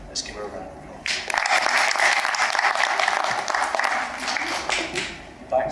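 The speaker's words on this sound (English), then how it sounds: "Let's give her a round of applause." An awards-ceremony audience breaks into a round of applause for a volunteer, a full crowd of clapping that swells in after a quieter second and holds steady, with scattered sharper claps near the end.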